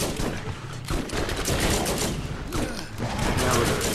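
Turret gunfire in the video game Borderlands: sustained rapid bursts of automatic fire, loud and dense for the whole stretch, mixed with other game combat noise.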